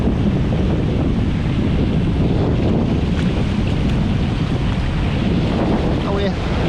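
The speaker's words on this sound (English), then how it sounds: "Waves coming." Sea surf washing onto a sandy North Sea beach at Druridge Bay, a steady loud roar with strong wind buffeting the microphone throughout, no distinct individual wave breaks standing out.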